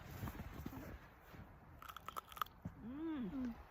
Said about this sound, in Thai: น้องเจนาตาชอบกินพริกหยวกจ้ะ